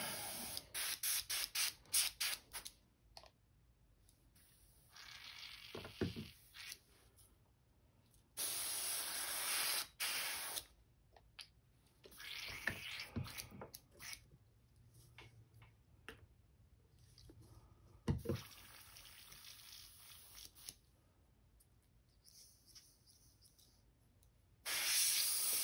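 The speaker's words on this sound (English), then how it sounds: "Clean that out of my airbrush." Airbrush sprays paint in repeated short and longer bursts of fine hiss with quiet gaps between, close up while a custom Threadfin Shad glide bait is painted.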